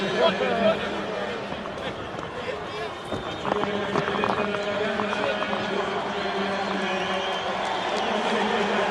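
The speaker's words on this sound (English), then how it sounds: "The French crowd now showing their appreciation of the All Blacks" A French stadium crowd applauds the All Blacks after the 2004 France versus New Zealand rugby test. The applause is a steady, dense roar with someone commentator speaking over it throughout.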